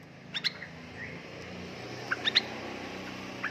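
A young straw-headed bulbul, about three months old, gives short, high chirps: a pair early on, a quick cluster of three a little later, and one more at the end, fairly close over a quiet room background.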